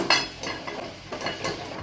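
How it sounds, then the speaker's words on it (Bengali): Boiled potatoes turning in hot oil in a pan, a spatula scraping and clinking against the metal in several distinct strokes over a soft continuous sizzle, close and moderately loud. "সেদ্ধ করা আলুগুলো ভালো করে ভেজে নিচ্ছি"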